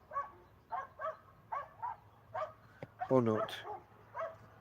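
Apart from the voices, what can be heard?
dogs barking in the distance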